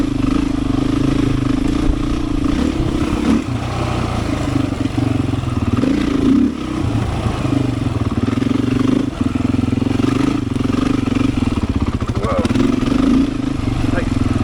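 A Beta 500 dirt bike ridden along a tight, tree-lined forest trail on the Holton Loop, its engine droning loud and steady up close with clatter and rattles over rough ground.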